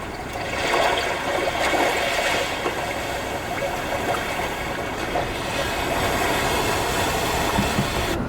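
Nature sounds of running water play through the stereo of a 2021 Genesis G90, a steady broadband rushing that stays constant and fairly loud throughout with no talking.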